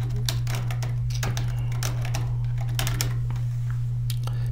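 Fingers typing on a computer keyboard, quick irregular clicks of keys in bursts over a steady low hum, fairly faint and close, with no talk.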